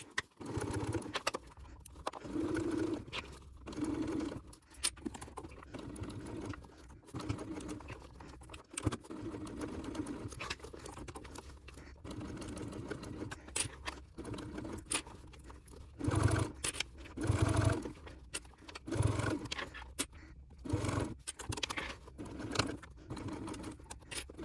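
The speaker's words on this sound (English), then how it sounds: "Then I'm going to head over to the machine. I'm going to sew around the entire top of the bag." A sewing machine stitches around the entire top of a crossbody bag, running in short bursts and longer stretches with brief pauses between, close by and fairly quiet.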